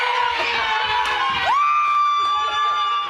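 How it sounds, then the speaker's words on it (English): Rugby league fans cheering and screaming from living rooms and a hotel during a close game, a loud burst of shouting voices and whoops with a rising high shriek near the middle. "Screams filling neighbourhoods as die-hard fans roared from their living rooms."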